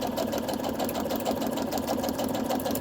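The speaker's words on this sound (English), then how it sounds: "I'm just going to do a straight stitch all the way around." A sewing machine runs a continuous straight stitch around a pleated fabric bag topper, giving a steady, even mechanical whir with a fine rapid rhythm, close and moderately loud, with no talking.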